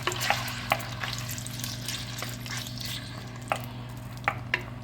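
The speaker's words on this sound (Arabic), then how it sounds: "سخنت الزيت، دوك نديرو اللحم تاعنا، نديرو تقلبه مليح" Beef neck frying in hot oil, a steady close sizzle with a low hum beneath and several sharp clicks and scrapes as the meat is stirred.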